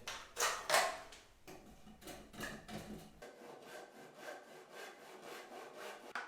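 A hand saw cuts wood while fitting a door frame, making several shallow depth cuts: rapid rasping strokes, loud at first, then a steady even back-and-forth rhythm close up with no talk.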